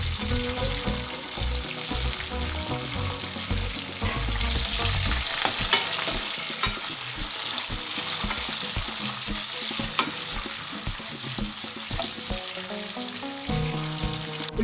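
Onions, green chillies and curry leaves fry in hot oil for bottle gourd dal, a loud, close sizzle with crackling spatter and occasional stirring scrapes, continuous the whole time.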